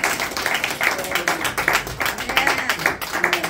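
A church congregation applauds and cheers to acclaim the word of God, dense steady clapping with scattered voices running throughout.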